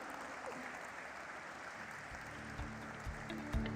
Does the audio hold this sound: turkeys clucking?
no